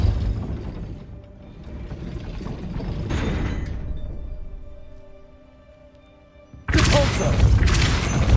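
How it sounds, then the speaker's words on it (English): A gate mechanism in Hogwarts Legacy grinds and ratchets with gear-like clanking in a couple of swelling phases, fading low, then ends in a sudden loud heavy crash as the gate lifts. "That looks as if it might raise the gate."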